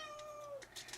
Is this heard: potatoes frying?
no